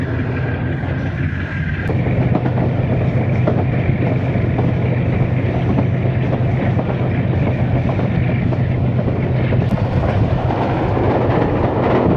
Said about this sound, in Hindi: बहुत खूबसूरत रेलवे स्टेशन और उससे गुज़रती हुई बहुत ही खूबसूरत ट्रेन